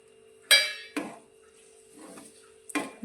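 Green garlic and spring onion greens being mixed into brinjal bharta in a pan, three or four separate metallic clanks and scrapes of a spoon against the pan with quiet gaps between, close and fairly sharp, no talking.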